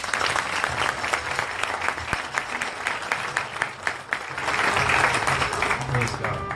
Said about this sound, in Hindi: वेलकम जो है वो करते हैं जोरदार ताली।